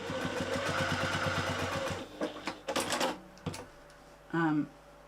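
Sewing machine top stitching a bag seam with short rhythmic bursts of needle clatter, followed by scattered clicks, handling knocks and a brief squeaky mechanical sound.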